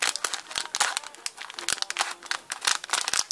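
Scissors work at a plastic drink-mix packet, giving a run of crisp crinkles and snipping crackles, close and irregular, with no talk over them.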